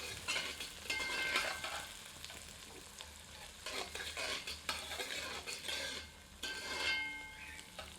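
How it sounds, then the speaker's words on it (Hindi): Onions sizzle and fry in a copper pan while a utensil stirs and scrapes at intervals, a steady crackling hiss with clinks of metal. "भूनने की प्रक्रिया पूर्ण करते हैं ताकि प्याज सुनहरी हो जाए।"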